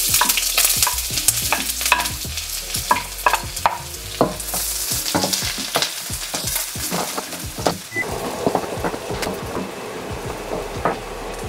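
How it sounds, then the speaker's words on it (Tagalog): Onions sautéing in a pan for pork asado, loud, close sizzling broken by frequent rhythmic scrapes and knocks of a utensil stirring against the pan. "Magsimula na tayong maggisa."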